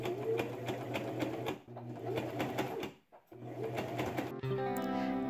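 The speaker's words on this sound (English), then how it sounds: "Then I sewed it down in the ditch." Sewing machine stitching in the ditch along a dress waistband, running in steady rhythmic bursts with short pauses between runs, close and moderately loud, no talking.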